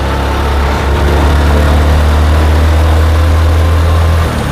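A motorcycle engine runs steadily in fourth gear, a loud, close, continuous low drone with a constant pitch throughout, easing off only at the very end.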